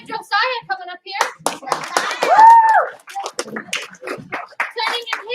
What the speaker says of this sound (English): Give her 1 clap. Give her 2 claps.